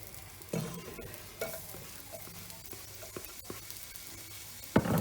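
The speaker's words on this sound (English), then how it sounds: "Hear that sizzling." Onion frying in a hot pot for a simple tomato and cheese pasta, with a steady low sizzle broken by the clatter of stirring and a sharp knock of utensil on pot near the end.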